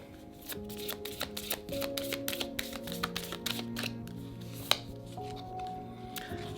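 Deck of oracle cards being shuffled, with rapid soft riffling taps and flicks continuing close by over a faint sustained musical background.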